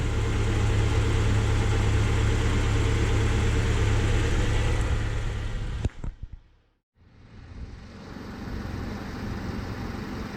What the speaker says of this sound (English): Alright, so I have the engine running here.